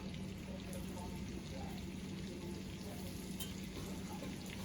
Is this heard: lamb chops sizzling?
yes